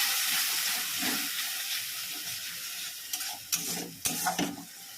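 Spices and grated tomato sizzle in a pan, a continuous hiss that softens as a spoon stirs, with several sharp scrapes and clinks against the pan near the end.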